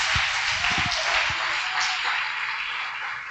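A church congregation applauds, a broad wash of clapping that carries on steadily, with a few sharp close claps near the start and a voice over it.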